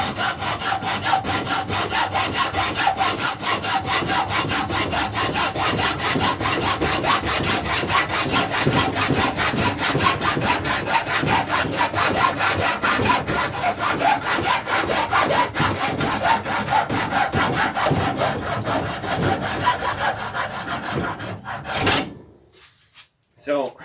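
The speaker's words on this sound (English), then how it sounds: "I could use my bandsaw, but I'll just use a hacksaw for now." A hacksaw cuts through a knife handle in fast, even back-and-forth strokes, loud and close, for about twenty seconds before it stops abruptly with a final clatter.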